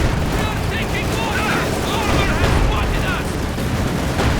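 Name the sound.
anti-tank gun firing in video game Company of Heroes 2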